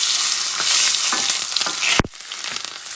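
Shrimp searing in a hot pan, a loud steady sizzle with light stirring scrapes, cut by a sharp clatter near the end before a quieter sizzle resumes; no talking.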